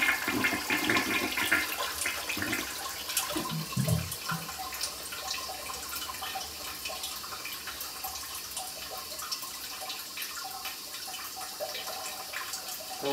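An upstairs toilet with its cover back on flushes in a steady watery rush that fades gradually over about thirteen seconds, with faint trickling and a few bumps near the start.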